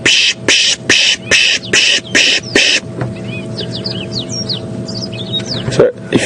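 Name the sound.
person imitating a bird alarm call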